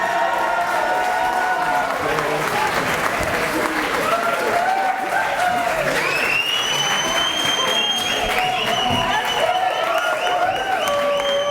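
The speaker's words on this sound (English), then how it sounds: "Let's have a round of applause for Itchy Gucci!" Wedding guests applaud steadily, a dense even clatter of many hands filling the room, with some voices and a few sustained tones rising above it partway through.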